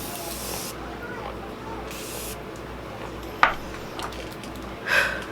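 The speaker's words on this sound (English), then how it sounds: "I'm gonna spray my face down." A face-setting spray misted onto the face during a makeup routine gives short hissy bursts, one sharp puff near the middle and a softer one near the end, close and fairly faint over a quiet room.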